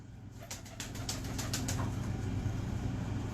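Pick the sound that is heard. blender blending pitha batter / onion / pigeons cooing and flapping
pigeons cooing and flapping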